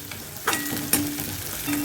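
Oil sizzles and crackles steadily in a hot pan as spices and tomato fry for chicken kuzhambu, with a couple of stirring scrapes breaking through the continuous frying hiss, close by.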